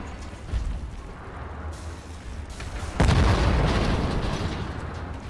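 Bomb going off in Wolfenstein: The New Order, a sudden loud boom midway that rolls into a sustained rumbling roar, preceded by low thuds and quieter game noise.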